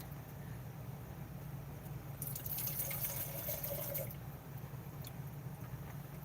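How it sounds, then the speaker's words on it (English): Water is poured into a still-hot non-stick pan inside a camper kitchen, a brief close splash and gush lasting a couple of seconds against a quiet hum. "Put some water in this while it's still hot so it'll be easier to clean."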